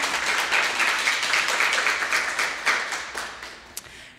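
Audience at a Black History storytelling event applauding and clapping steadily, a dense room-filling patter that thins slightly toward the end with a few sharper individual claps.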